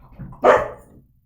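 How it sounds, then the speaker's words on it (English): A single sharp dog bark rings out nearby, preceded by a softer low whimper-like sound, then fades. "Sorry, that's our dog."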